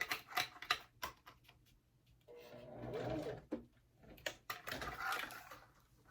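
A domestic sewing machine stitches a wallet in quick bursts of rapid mechanical clatter, separated by pauses and a softer whirring stretch, close and fairly quiet.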